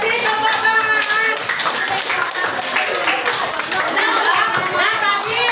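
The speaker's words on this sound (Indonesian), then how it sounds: "Kasih tepuk tangan" Children in a primary school classroom clap their hands together in a dense, steady round of applause that carries on for several seconds, loud and close, with a few young voices chattering underneath.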